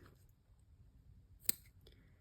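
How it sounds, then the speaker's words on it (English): Sharp pointed scissors snipping a small V-cut into the seam allowance of plush whale toy fabric, a single crisp quiet snip amid a faint, otherwise hushed room. "I'm just going to take a pair of sharp pointed scissors and make a series of small V-shaped cuts into that seam allowance."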